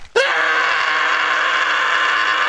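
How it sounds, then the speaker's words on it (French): A sudden, piercing, sustained scream of horror bursts in loud and close after a brief hush, holding steady at a harsh pitch to the end. "Putain, le cri horrible."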